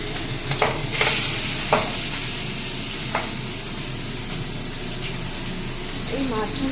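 Fish frying in hot oil: a loud, steady hiss of sizzling with a few sharp spattering pops and stirring noises, close up.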